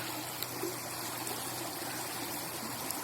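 A stream of water flows on, a steady broadband rush that stays even and close for the whole stretch, with no voices over it.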